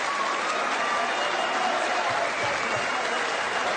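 A large snooker crowd applauds Ronnie O'Sullivan's 1000th century break, dense, steady clapping filling the hall without a break, with faint voices mixed in.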